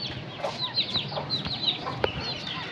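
A hen among chicks and pigeons in a backyard cage gives a run of short, scattered clucks and chirps at close range, with one sharp click near the end.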